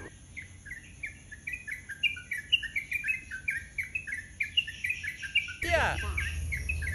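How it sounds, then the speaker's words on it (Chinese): Several small birds give rapid, repeated chirping calls while mobbing a hornbill in Singapore, a steady overlapping series of sharp, high notes that continue throughout. A sudden louder rustle or flap near the end could be wings or branches. "难道这几只小鸟一起群体来攻击大犀鸟"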